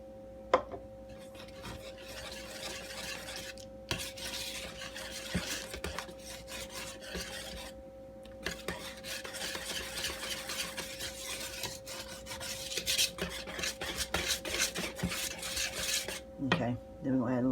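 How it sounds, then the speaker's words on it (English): Continuous scraping and rubbing of a utensil stirring milk into melted butter in a bowl for crepe batter, steady and close, broken by a few brief pauses and sharper knocks, with a steady hum beneath. "we're going to have to add some milk, mix it, then add a little bit of butter and mix it"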